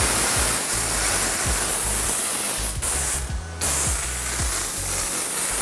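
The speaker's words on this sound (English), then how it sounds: "I would pre-spray the panel like that." Rinseless wash sprayed onto a car panel as a pre-spray, a loud steady hiss filling the whole stretch with one brief dip partway through, close and alone.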